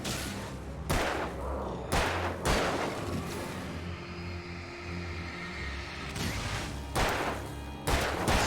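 Gunshots in Alan Wake, about eight sharp, loud blasts at irregular intervals, each trailing into a rumbling decay, with no talking.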